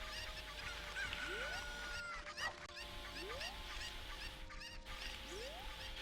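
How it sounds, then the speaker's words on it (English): Chickens cluck and squawk in a Zelda dungeon video game, several short fowl calls at intervals over a steady background of game music. "You throw both those chickens to the left side, and then you can lure them over."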